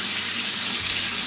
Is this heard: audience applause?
no